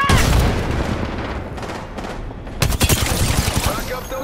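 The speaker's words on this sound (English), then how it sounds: "Getting shot at!" Bursts of rapid automatic gunfire and heavy booms fill an Apex Legends match, loud and close, with players talking excitedly over the shooting.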